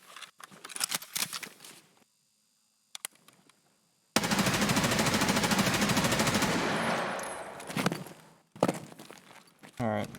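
Rapid bursts of rifle fire from a budget-built AK-102 on a shooting range: a few close single shots, a long sustained automatic string lasting several seconds, then more shots, with brief talk between strings.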